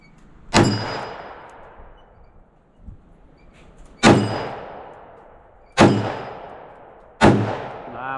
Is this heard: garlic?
no